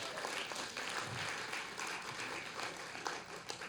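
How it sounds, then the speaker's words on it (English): Faint, distant crowd applause at a storytelling slam show, honoring educators in the room, a soft continuous patter of clapping with a few sharper claps. "Let's give them a round of applause"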